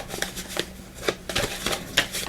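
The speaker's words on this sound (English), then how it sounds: "we'll just give these a good shuffle" Tarot cards, the major arcana deck, shuffled by hand in a series of quick riffling bursts and soft slaps, close and clear, with no talking.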